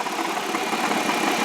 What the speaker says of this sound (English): This is a 3-liter V6 engine, so it gives you plenty of power.